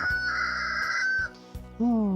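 A rooster crows nearby in one long, strained call in a rural Thai village, with a second shorter crow starting at the end over a low background hum.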